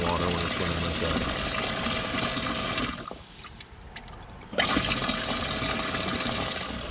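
Livewell aerator pump on a jon boat converted to a bass boat runs with a loud rushing water sound, cuts out abruptly to near quiet, then surges back on just as strongly.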